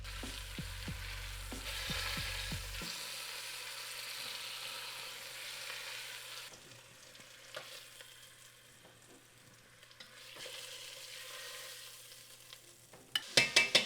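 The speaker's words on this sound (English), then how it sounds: "take your beef, stick it in the pot, and you wanna cook it 2 to 3 minutes on each side" Beef sears in a hot pot, a steady crackling sizzle with occasional scraping stirs, quieter in the middle and ending with a few sharp clatters.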